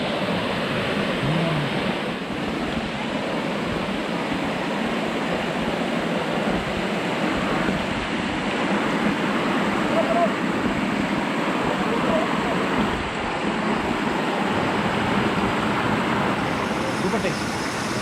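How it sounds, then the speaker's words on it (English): A continuous broadband rush of a mountain stream on the Kudremukh trek in Karnataka, steady and fairly loud throughout, with no clear breaks or rhythm. "you will hear this water stream sound"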